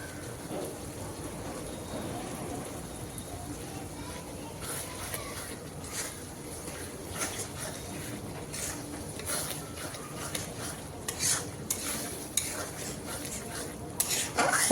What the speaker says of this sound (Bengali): হলুদ তেজপাতা দেওয়ার পর আমি 1 থেকে 2 মিনিটের মতো আরও কষিয়ে নিয়েছি।